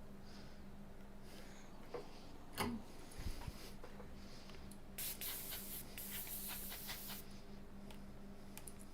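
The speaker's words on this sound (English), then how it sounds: "where's my compressed air?" Compressed air duster blowing during electronics repair work, a faint hiss rising to a sustained, brighter spray burst of about two seconds, with a few small clicks and bumps before it.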